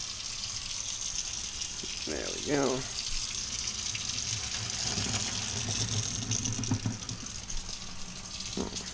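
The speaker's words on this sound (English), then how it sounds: "Always cold water when you drain." Cold tap water runs steadily into a kitchen sink while a pot of boiled cauliflower is drained, a constant hissing gush with a brief clatter of the pot and someone speaking briefly.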